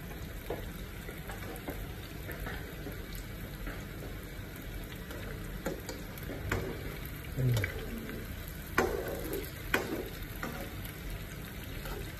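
Food frying in a pan until golden brown, a steady dense sizzle with scattered pops and crackles throughout, close and continuous.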